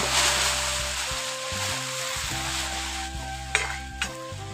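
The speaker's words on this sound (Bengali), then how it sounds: "জলটা দিয়ে ভালো করে নাড়াচাড়া করে মিশিয়ে নিচ্ছি" Koi fish curry with potatoes and aubergine is stirred in its pan after water is added, giving a continuous bubbling sizzle with a low steady hum and two brief knocks near the end.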